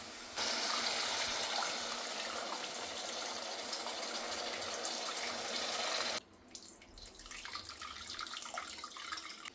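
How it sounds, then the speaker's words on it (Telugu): Soaked tamarind juice pours steadily into a cooking pot for an old-style home dish, a loud continuous gushing stream that stops abruptly partway, followed by quieter clatter and handling noise. "ఈ పులుసు కూడా పోసేసుకుందాం"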